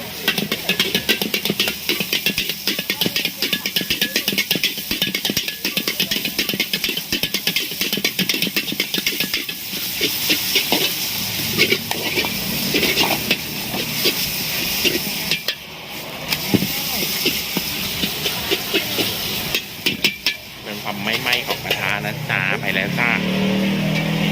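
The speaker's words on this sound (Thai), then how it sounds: "เสียงกระทะเย้ายวนมากนะครับชวนกิน" A busy wok clangs and sizzles at a Thai street-food stall, metal scraping against the pan under steady traffic and background chatter.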